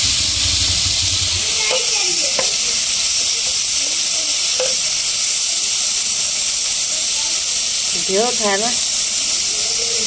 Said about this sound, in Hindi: अच्छा घी को आग लगी है